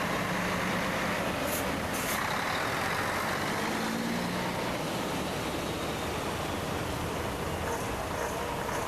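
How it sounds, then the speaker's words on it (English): A Volvo FH12 truck passes at a vintage wagon run, its engine rumble steady and fairly loud against constant broadband road and wind noise, with a brief hiss near the start. "the Volvo FH12"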